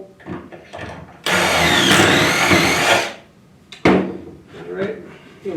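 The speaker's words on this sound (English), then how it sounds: "Drill the hole." A power drill bores a hole in a bookcase, one loud sustained whir lasting nearly two seconds, then a brief second burst; people talk quietly before and after.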